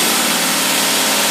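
An engine fitted with a Holley 4412 two-barrel carburetor idles loudly and steadily as a dense, unbroken roar, with cooling pumps and fans running alongside it.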